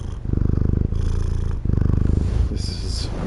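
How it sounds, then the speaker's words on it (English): Zula, a 15-year-old cat, purrs steadily up close in a continuous rhythmic rumble with brief pauses between breaths. "This is my cat, Zula."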